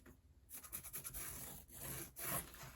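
Chalk marks a line on fabric for a sewn wallet, making soft scratchy rubbing strokes in a quiet room, close and faint, with no talk.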